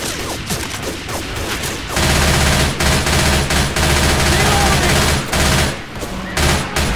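Rapid bursts of automatic gunfire from a Left 4 Dead 2 match on Xbox 360 as players shoot zombies, loud and dense with brief pauses, faint voices underneath.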